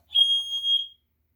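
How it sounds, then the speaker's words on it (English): Watchdog water alarm giving a single loud, steady high-pitched electronic beep with faint overtones just as its battery goes in, lasting under a second before cutting off cleanly into silence. "I don't know why it would alarm when I inserted the battery"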